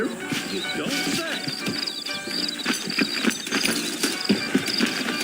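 Saddled horses clip-clop at a brisk trot in the Western video game Red Dead Redemption, hooves clattering in a busy rhythm with a faint whinny, while a voice talks over them.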